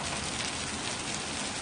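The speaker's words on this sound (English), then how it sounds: "the rain isn't looking like it's gonna end anytime soon" Steady rain pours down at Qaddafi Stadium, Lahore, a dense, even hiss filling the air with no voices over it.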